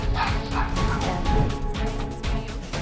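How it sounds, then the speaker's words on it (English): Two dogs barking and yipping at a black bear inside a house kitchen, loud and close, with bursts of barks over a busy background of music and crashing. "her two dogs barked and chased it out of the house"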